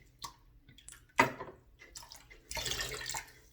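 Water running and dripping from a silvertip badger shaving brush as it is squeezed out over a sink, a brief splash then a louder steady trickle toward the end, with no talking.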